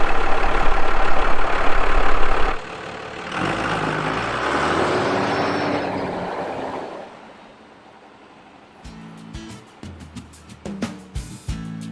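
A stuck truck revs hard, its engine roaring loud and steady as the tires spin, then the sound drops to a lower drone and fades before a run of sharp clunks and knocks near the end.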